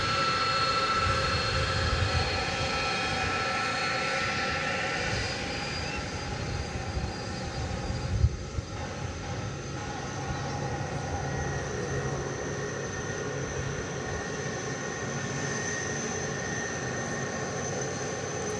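Martinair Super Cargo Master freighter aircraft at DFW Airport give off a steady, distant engine roar that hums on without letup, joined by a brief knock midway.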